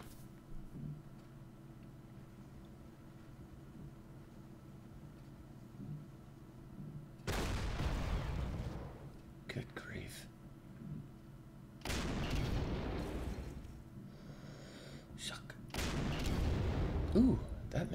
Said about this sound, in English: Start with the artillery.